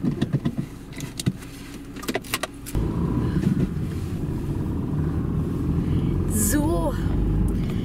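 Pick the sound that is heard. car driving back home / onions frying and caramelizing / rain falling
car driving back home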